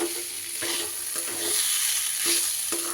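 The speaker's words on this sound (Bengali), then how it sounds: "মিনিট 5 ধরে এইভাবে আমি নাড়িয়ে চাড়িয়ে কিন্তু কষিয়ে নেব গ্যাস লোতে করে" Moong dal being stirred and dry-fried in a pan over low gas for bhog khichuri, with a steady sizzle and repeated scraping strokes of a spoon, close and clear with no talk.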